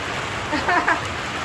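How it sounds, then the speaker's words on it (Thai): Heavy rain driven by wind, a dense, steady hiss of falling water that fills the whole clip at close range, swelling slightly in brief gusts. "เจอฝนตกอย่างหนักเลย"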